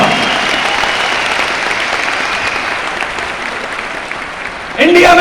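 A large auditorium audience at an award function claps loudly and continuously in a dense roar of applause, which cuts off near the end as a voice begins speaking over a microphone.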